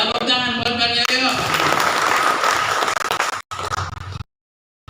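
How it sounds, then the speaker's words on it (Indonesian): Applause from guests at a halal bihalal gathering in a restaurant in Setu Cipayung, brisk clapping mixed with talk, thinning out and then cutting off into silence. "Tepuk tangan buat Bang Yoyo."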